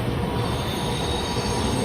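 The Sairang Express runs through Dum Dum junction without stopping, giving a loud, steady rumble of rolling wheels and rail noise close by, continuous and unbroken for the whole short stretch.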